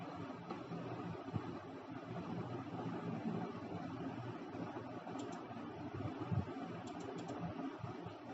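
A computer keyboard being tapped to enter the LINE command in AutoCAD, faint irregular keystrokes under a steady background hiss.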